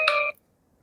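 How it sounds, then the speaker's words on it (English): Incoming phone call alert: a brief bright electronic tone, steady and loud for about a third of a second, then cuts off into silence. "oh, I'm getting a phone call from Angola"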